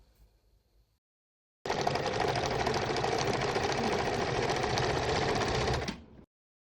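Simplicity 8220 electric sewing machine stitching with stitch length 2 and width 2: after a short pause, a steady, loud, rapid mechanical whirring and clatter runs for about four seconds, then winds down and stops.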